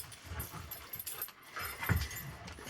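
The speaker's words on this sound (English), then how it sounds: "One of the other dogs." A dog in a busy household room makes soft whimpers and scuffling sounds, faint and intermittent, with another animal nearby.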